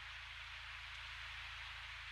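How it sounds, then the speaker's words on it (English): Steady rain falls at night on a traditional Korean hanok, a soft, even wash of drops spread across the roof and yard, constant and unbroken throughout with no voices. "The rain falls past them and does not touch them, and they dry on through the wet evening"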